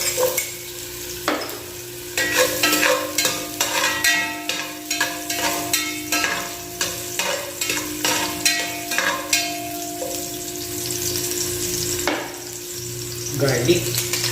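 Ginger sautéing in hot cooking oil for a fish-head sinigang, with a spatula scraping and stirring in a steady rhythm of sharp strokes over a continuous sizzle, close and fairly loud, without talk.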